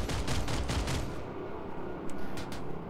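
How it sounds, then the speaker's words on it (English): Liberator tail gun in PlanetSide 2 firing as a rapid, dense burst over the first second, then giving way to a rumbling engine-like roar with a few scattered sharp cracks. "He's trying to shoot us with his tail gun."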